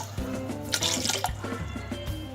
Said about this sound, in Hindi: अब इसमें इतना पानी डालूंगी कि गोश्त गल जाए।